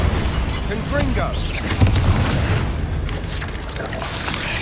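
Explosive spells cast in a Hogwarts video game, booming blasts and crackling bursts layered over a dense low rumble, with shouted voices over them.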